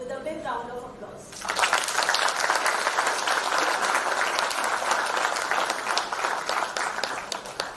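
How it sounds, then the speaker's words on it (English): A hall audience at a company silver jubilee celebration breaks into a big round of applause welcoming senior management, dense steady clapping that starts abruptly after a brief spoken line and carries on loud. "Let's welcome Arshia ma'am, Lalji sir, SPD sir, VS sir, TAS sir, and RPM sir with a big round of applause."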